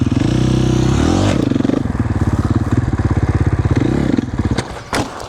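A 450 dirt bike, geared tall for wheelie practice, revs close up with a loud rapid single-cylinder chatter that pulses and shifts in pitch, then drops away near the end.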